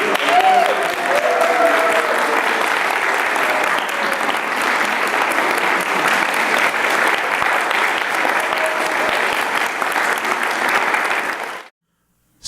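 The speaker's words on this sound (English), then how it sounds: "I'd like you to give them a rousing round of applause for doing this." A congregation at a Unitarian Universalist service applauds puppeteers after a Faust performance: a dense, sustained wash of clapping from a full room, steady and loud throughout, ending abruptly.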